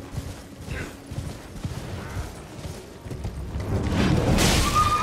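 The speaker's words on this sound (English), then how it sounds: "someone's riding a horse" A horse galloping in the video game Elden Ring: a rhythmic run of hoof thuds that builds from moderately distant to louder and nearer, joined by a rising rumble and a swell of noise near the end.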